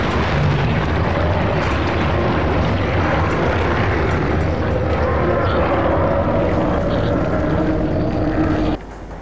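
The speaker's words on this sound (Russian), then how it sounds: "Здесь Блейка подбирает вертолет" A helicopter in The Thing video game hovers and circles, its rotor and engine making a loud, steady drone that runs throughout before ending abruptly near the close.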